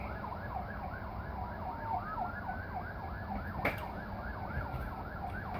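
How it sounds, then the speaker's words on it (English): An ambulance siren wails steadily in a repeating rising-and-falling pattern, moderately loud, with a brief sharp noise partway through. "thought I heard an ambulance then"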